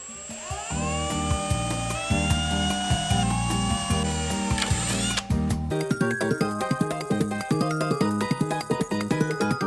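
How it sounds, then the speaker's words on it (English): Loud, sustained power drilling with a whining motor, then rapid rattling bursts as the bit chews through the metal body of a BMW E36 car, close by with no talking. "So after a lot of drilling, and by that I mean a lot"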